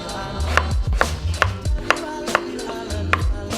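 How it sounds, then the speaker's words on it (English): A knife chopping carrots into thin batons on a board, a quick series of close, crisp, evenly spaced cuts and board taps, about a dozen strokes with no talk. "cut your carrots into batons. Nice and thin"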